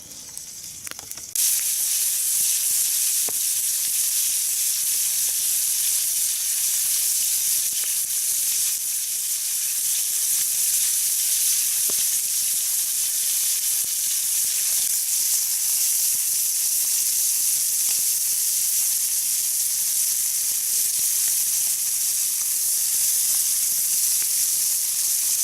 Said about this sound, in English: I'll work on deglazing the pan with